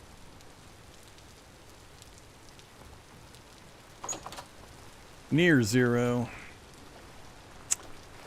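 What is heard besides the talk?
rain falling in the video game Vintage Story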